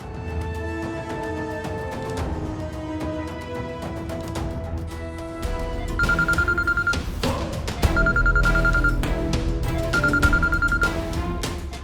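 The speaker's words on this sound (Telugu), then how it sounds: "ఫోన్ రింగ్ అవుతుంది" A telephone rings in a Telugu television drama, a bright electronic ringtone in three repeated bursts over a bed of soft background music.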